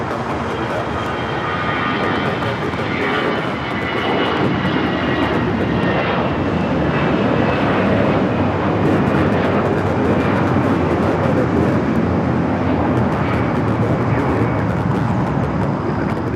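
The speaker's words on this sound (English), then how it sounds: "Next takeoff, I believe, is American flight heading back to Dallas, Fort Worth, Texas" An American Airlines A321 jet takes off from LAX at night, bound for Dallas–Fort Worth. Its broad engine roar holds loud and steady for the whole stretch, with no talk over it.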